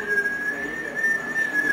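A person whistling a single sustained note that wavers slightly in pitch, clear and close, alone over a soft room background.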